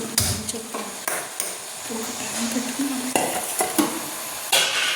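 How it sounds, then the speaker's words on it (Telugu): Paneer fries in hot oil in a pan with tomato and onion, a steady sizzle broken by repeated clanks and scrapes of a spoon stirring against the pan. "ప్యాన్ పెట్టుకుని టమాటా ఆనియన్ మధ్యలోపు మనం పన్నీర్ ఫ్రై చేసుకోవాలన్నమాట"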